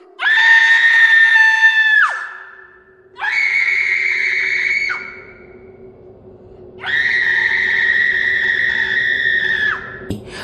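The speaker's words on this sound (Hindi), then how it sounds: "अमित की तरफ देखकर वो लड़की डरावनी तरीके से चीखने लगी।" A girl's terrified, horror-style scream, loud and close, coming in three long sustained bursts separated by short gaps over a faint steady background hum.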